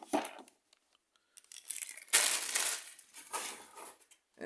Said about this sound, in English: Of course, it comes with this protective plastic bag.